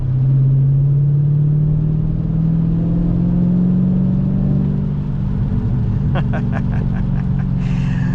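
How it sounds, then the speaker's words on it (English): A Dodge Challenger 392 with a modified axle-back exhaust and slightly larger 3-inch pipes gives a deep, continuous rumble while cruising, loud and close, with a few brief clicks near the end. "the exhaust you hear, once again, that's modified axle back with slightly bigger pipes, 3-inch"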